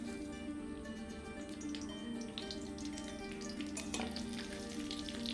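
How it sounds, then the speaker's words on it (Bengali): Bay leaves, dry red chillies and panch phoron spluttering in hot mustard oil, giving a continuous soft sizzle with a few sharper crackles near the end, heard close and fairly quiet. "ফোড়নটাকে খুব সুন্দর করে ভেজে নেব।"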